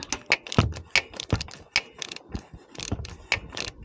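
A motorhome clutch slave cylinder is unbolted: a quick run of close, sharp metallic ratchet clicks and clanks in an irregular rhythm, with no talking.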